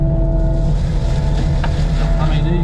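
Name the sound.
new mulcher running at about 2200 RPM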